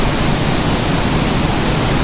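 Steady, loud broadband roar of a mountain waterfall during wild trout fishing, a dense continuous wash of falling water close by with no breaks and no voices.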